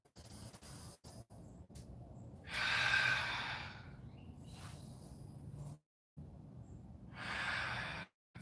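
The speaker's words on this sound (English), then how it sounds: "Big inhale. Exhale. Big inhale. Exhale. Working your breath." Deep recovery breathing is audible during a workout, with two long, slow inhale and exhale cycles close to the microphone, each a broad airy rush that swells and fades, broken by short silences.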